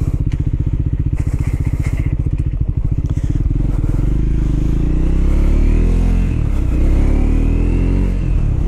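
A Triumph Scrambler 400X motorcycle engine revs up while riding, its loud, close, pulsing exhaust note climbing in pitch, then holding a steady drone as the bike gathers speed, with wind noise over it.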